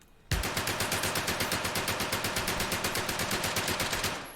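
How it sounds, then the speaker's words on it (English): An MP40 German submachine gun fires one long sustained automatic burst in Medal of Honor: Above and Beyond, sharp, rapid, evenly spaced shots that start abruptly and keep a steady rhythm for about four seconds. "The MP40, a deadly German submachine gun."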